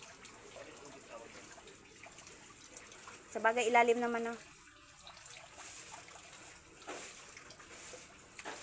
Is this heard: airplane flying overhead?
no